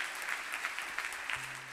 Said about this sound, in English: Yeah, y'all can clap.